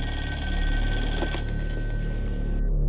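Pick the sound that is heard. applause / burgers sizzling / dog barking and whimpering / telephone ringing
telephone ringing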